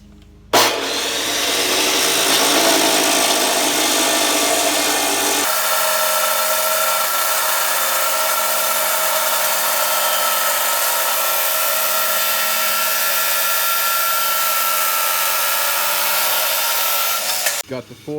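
Power saw cutting blocks for a homemade overhead hoist, a loud, continuous harsh grinding whine that holds steady for about seventeen seconds after a brief start, then stops abruptly.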